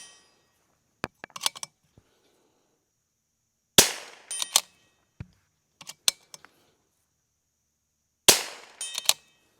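A Rim-X fires rounds during a reliability test, with sharp gunshots coming singly and in quick clusters of two to four, separated by near-silent gaps, close and loud with faint mechanical clicks between some shots.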